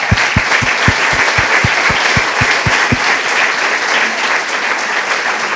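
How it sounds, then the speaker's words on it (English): Loud, sustained applause fills the room at a university gala, with a run of regular low thumps like someone tapping a microphone or stomping in the first few seconds. "let's give them a round of applause while they're here"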